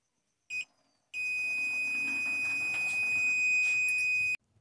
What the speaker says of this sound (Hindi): अपने डिजिटल मल्टीमीटर को हम बीप की रेंज में रख लिए हैं